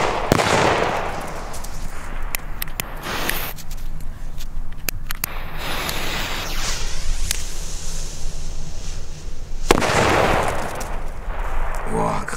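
Two loud, sharp blasts from Funke Super Böller 2 firecrackers burst a few seconds apart on New Year's Eve, each followed by crackling echo and rumble outdoors.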